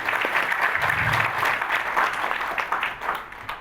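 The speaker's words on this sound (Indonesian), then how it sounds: "Tepuk tangan sekali lagi." Applause from an audience at an Indonesian government event on staff capacity building, a burst of dense clapping that swells and then gradually thins out over a few seconds.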